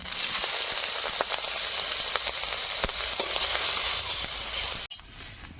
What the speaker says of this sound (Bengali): গুগুলিগুলো কষে নেব